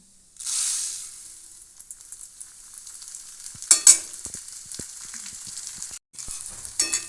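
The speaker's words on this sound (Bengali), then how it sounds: "এখন এই তেলেতে আমি এই মুগ ডালটা দিয়ে দিচ্ছি" Mung dal tipped into hot oil for a spiced fried pitha batter, giving a loud initial sizzle that settles into a steady frying hiss, with a few stirring clicks and scrapes along the way.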